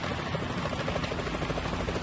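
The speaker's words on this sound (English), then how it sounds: "that a chopper I just heard?" A helicopter in Metal Gear Solid 2 thumps with fast, rhythmic rotor chop, loud and close, filling the short moment without any talk.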